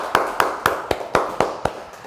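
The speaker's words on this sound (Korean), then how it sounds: "박수 올려드리겠습니다." A church congregation claps for the pastor after a Sunday service sermon, about eight evenly spaced sharp claps in a steady rhythm, moderately close with no talking over them.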